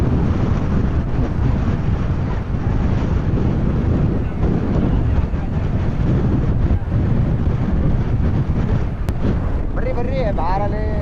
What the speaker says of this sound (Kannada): ಗಾಳಿ ನೋಡ್ರಿ ಎಲ್ಲರೂ ಹಿಂಗೆಲ್ಲ ತೇಲಾಡ್ತಾವ್ರೆ